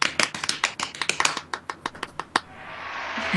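Applause greets a guest on a live talk show: a quick run of sharp, close hand claps that thins out and stops, leaving quiet room tone.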